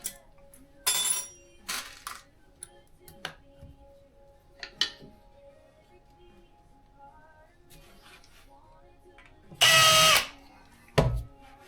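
A power drill pre-drills holes for a cabinet valance in a few short, quiet bursts, with one louder whirring burst near the end and light clinks of hardware in between.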